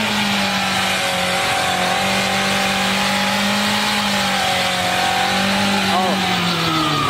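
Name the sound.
voice imitating a car engine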